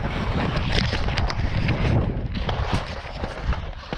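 Strong wind roars and buffets the microphone in continuous gusts, loud and close, with no voices, in the taiga while ice fishing for grayling.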